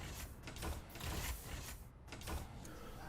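Automatic airlock door in Space Engineers sliding shut, a faint mechanical whirring and hiss with pulsing swells, quiet and continuous over a few seconds.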